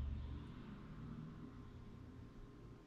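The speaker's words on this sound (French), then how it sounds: "On entend en fait un bruit d'électricité, comme si on était à côté d'un gros transformateur" Inside a Tesla while it charges in Belgium, a faint, steady electrical hum like a large transformer sits under a low rumble, continuous and quiet with no talking.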